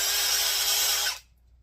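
A Litheli cordless impact wrench whirs at high speed for about a second, then stops abruptly into near silence.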